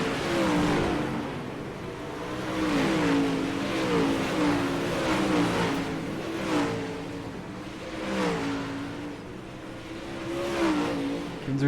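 Super late model stock cars race around an oval track, engines rising and falling in repeated swells as the pack passes, a steady roar at a moderate distance without voices.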